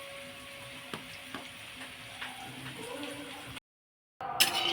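Hot oil crackles and sizzles in a pan on a home stove with a few soft ticks and pops. The sound holds steady, drops out briefly, then returns with a sharper burst.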